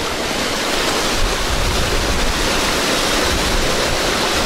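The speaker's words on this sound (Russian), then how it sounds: "Вот речка Чулышман." The Chulyshman river, running high and swollen after rains in its canyon, roars as a loud, dense, unbroken rush of water close by, with no other sounds over it.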